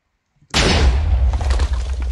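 An explosion in a Minecraft-style survival multiplayer game goes off abruptly after a short silence, a loud booming blast that rumbles and crackles for nearly two seconds with no speech.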